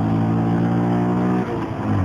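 Honda Grom MSX 125 motorcycle engine droning steadily while riding in top gear toward a bend, loud and continuous with a brief dip in pitch partway through.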